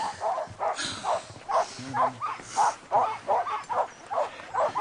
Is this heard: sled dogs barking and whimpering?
yes